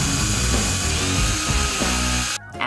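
A power drill whines steadily while boring holes into a wooden base for a polymer clay daisy creature, loud and close, then cuts off abruptly near the end.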